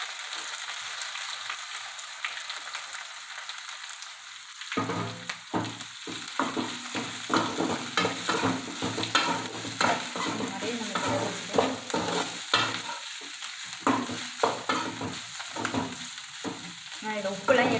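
Salted bitter gourd slices fry in a pan. After a short hiss comes a busy, crackling sizzle, and a spatula stirs and scrapes in quick, repeated strokes, close and fairly loud, with no speech.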